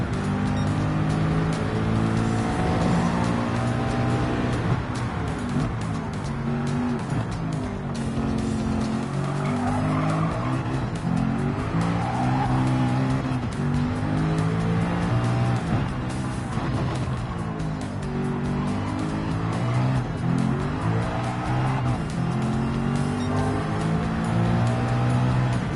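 A race car in Gran Turismo 7 drones loudly and continuously, with its engine note rising and falling while tires squeal repeatedly through corners.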